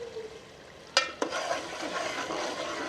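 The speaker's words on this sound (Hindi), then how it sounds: "2-3 मिनट के लिए और भूनेंगे" Aloo keema fries in a pan, Lahori dhaba style: two sharp scrapes of the spoon, then a steady, close sizzle.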